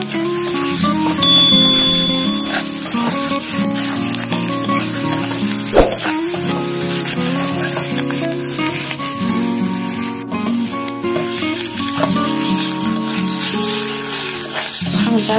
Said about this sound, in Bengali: ভেজে নেবো ভালো করে পেঁয়াজটাকে